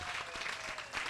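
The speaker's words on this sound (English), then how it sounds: "And another round of applause, please, for the Honorable Mayor Ras J. Baraka." Audience applause at an East Ward community conversation on environmental justice in Newark, a dense, steady clapping that fills the room at even volume for about a second, with no voices standing out.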